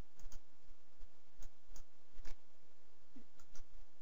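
Soft, quiet mouse clicks spaced irregularly, about a dozen light taps over a low steady hum.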